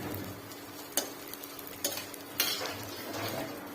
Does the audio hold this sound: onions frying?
yes